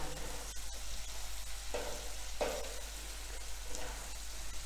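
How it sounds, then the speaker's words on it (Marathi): Chopped onion fries in hot oil in a pan, a steady close sizzle with a few louder crackles and stirring scrapes, as part of preparing a puffed rice dish with peanuts. "आता आपला कांदा चांगला भाजू दे"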